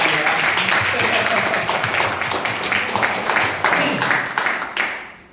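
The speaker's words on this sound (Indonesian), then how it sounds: "Jadi kalau Anda tidak mau klaim penyakit kritis, kasih tepuk tangan yang lebih berbeda." An audience at an Indonesian motivational training day claps in a dense, steady wash for about five seconds, with voices and cheering mixed into the noise before it thins out at the end.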